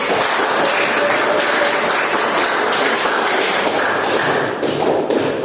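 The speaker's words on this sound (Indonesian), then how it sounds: "Tepuk tangan semua dulu" Classroom clapping after students took part in a vernier caliper measuring activity: a dense, steady patter of many hands, fairly close and loud, running on alone without talk.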